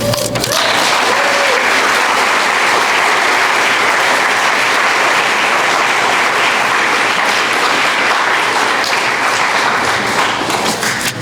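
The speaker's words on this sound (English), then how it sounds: "Let's get one more round of applause for our speakers." A large crowd applauding loudly and steadily for speakers at senior speeches, a dense wash of clapping that continues without a break.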